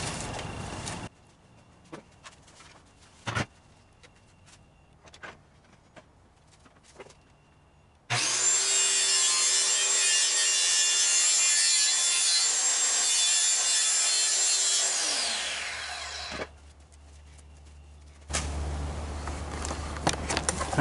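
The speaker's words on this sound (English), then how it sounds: "the circular saw in the sled such that it'll cut a 32nd of an inch off of that" A circular saw mounted in a Kreg Accu-Cut sled rips through wood, a loud sustained whining cut of about eight seconds that winds down, framed by quieter clunks and handling noises.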